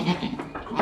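A farm goat gives short bleats, close and fairly loud, in a brief burst under a little background noise.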